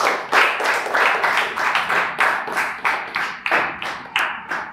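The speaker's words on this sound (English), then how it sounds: "Clap for yourselves." An audience claps for itself at a community speech event, a loud, steady burst of many hands with rhythmic swells lasting throughout, no voices over it.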